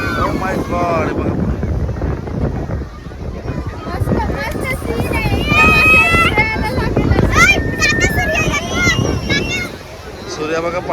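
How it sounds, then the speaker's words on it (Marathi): Strong sea waves surge and crash on the shore at Dwarka in gusty wind, a loud, continuous roar with splashes, while excited voices and cheering carry over the surf throughout. "लाटा बघा आली जोरात जोरात आली जोरात आली. उडला पाणी."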